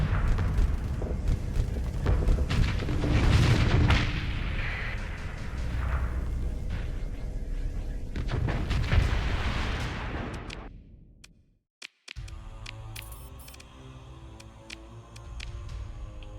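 Planetary bombardment in Starsector roars as a long run of heavy explosions and booming blasts, loud and rolling for about ten seconds before dropping to near silence, then a quieter hum with scattered sharp pops.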